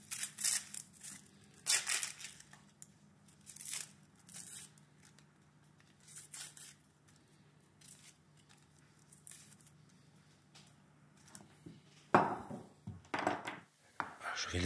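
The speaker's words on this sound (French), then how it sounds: "Je prépare un oignon que je vais peler" Onion being peeled by hand on a cutting board while preparing ratatouille, with scattered crisp papery tearing and tapping sounds close by, separated by quiet pauses, then a denser burst of handling noise near the end.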